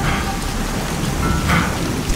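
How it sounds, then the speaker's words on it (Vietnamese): Steady heavy rain hisses across the whole moment in the video game Crysis 2 Remastered, a dense wash of drops with a low rumbling undertone and no voices. "còn trời mưa nữa chứ"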